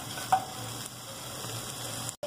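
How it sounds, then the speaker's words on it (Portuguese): Bacon fries in a pan for spaghetti with bacon, a steady crackling sizzle at low volume with a few small pops, heard alone throughout. "E aqui o bacon tá fritando."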